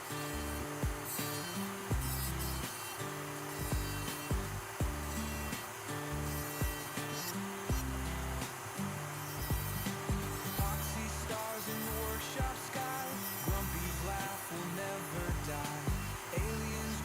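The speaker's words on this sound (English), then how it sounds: "they make the wood just disappear. You gotta let that burr do the weight." A Dremel rotary tool drives a burr through wood in a continuous high whine, with rhythmic grinding pulses as the carving strokes repeat, fairly faint and steady.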